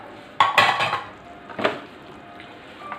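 A spoon stirs pakora kadhi with dried fenugreek and garam masala in a pot, giving two clusters of scraping and clinking against the metal, close by, then quiet.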